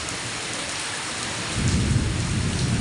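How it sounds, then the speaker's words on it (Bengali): Loud thunder rumbles in low and deep partway through, rolling over the steady hiss of heavy rain falling on surfaces. "মেঘ ডাকছে খুব জোরে"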